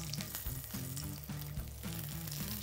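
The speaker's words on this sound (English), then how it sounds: "Not really getting the same sizzle on the fat as I did with the stainless." Steak fat rendering in a hot pan gives a steady, close sizzle and crackle with a few low thumps of movement, with no talk over it.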